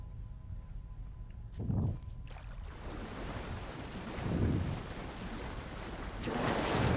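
Water and waves wash and surge in the video game Alan Wake 2, with three swelling rushes over a constant wind-like roar and no talking.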